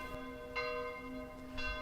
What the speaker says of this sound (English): The bells of St. Peter's